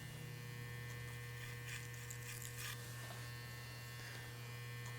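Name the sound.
hair clippers tapering hair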